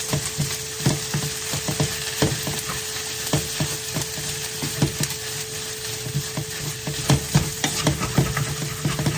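A spoon stirs and scrapes the bottom of a pot of onions, garlic and spices as they fry, with steady loud sizzling and a busy run of rhythmic scraping strokes throughout.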